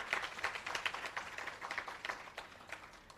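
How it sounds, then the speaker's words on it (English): Audience applause at a company's 40th anniversary employee service awards ceremony, steady dense clapping from many hands in a hall, moderately quiet and continuous, tapering slightly toward the end. "Another round of applause, please."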